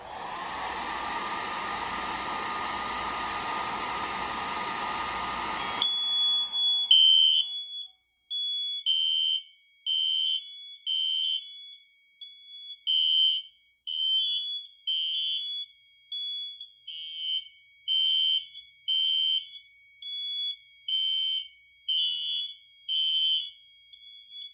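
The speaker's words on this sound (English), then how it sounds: "Now let's activate the second heat detector, and it'll put the system into full alarm." A Notifier NFS-640 fire alarm system in full alarm: a loud broadband horn blares for several seconds, then gives way to a steady pattern of repeated high electronic pulses, sounding close and alone.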